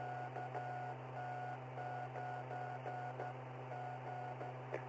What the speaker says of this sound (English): So I'll give it back to KT9G in Morse code.